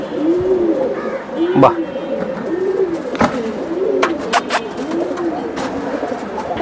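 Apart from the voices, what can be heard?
young pigeons (squabs)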